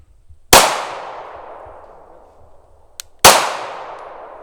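Bullets from a SIG P320 X VTAC pistol strike steel targets. Two loud, sharp metallic clangs sound about three seconds apart, each ringing out in a long, fading tone with no other sound between them.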